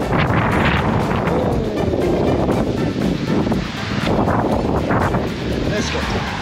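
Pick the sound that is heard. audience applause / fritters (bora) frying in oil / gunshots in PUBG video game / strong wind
strong wind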